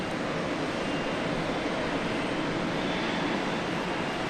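A Boeing 737-300 airliner at Dallas Love Field, heard as a steady, moderately loud broadband jet engine rush, even and continuous with no voices.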